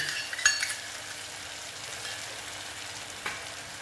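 A paste of cashews, melon seeds and yogurt sautés in a pan over lowered heat, giving a soft, steady sizzle with a couple of brief metallic utensil clinks.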